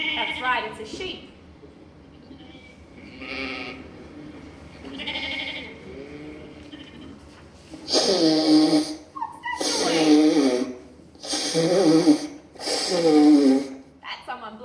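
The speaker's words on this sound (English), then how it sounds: "That's someone blowing their nose." Someone blows their nose into a tissue with four forceful, snorting bursts in quick succession, loud and close after a quieter stretch.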